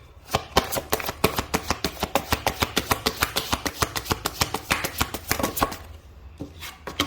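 Tarot cards riffle and slap together in a quick, steady run of crisp taps, close up, then a short pause and a few final snaps.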